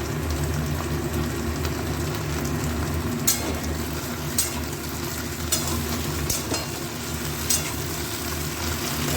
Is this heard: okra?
yes